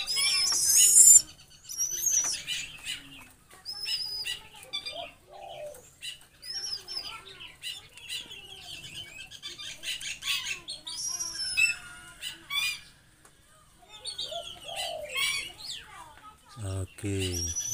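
Zebra doves (perkutut) near their nest give soft cooing and chirping calls with brief wing flutters, mixed with a voice talking intermittently outdoors.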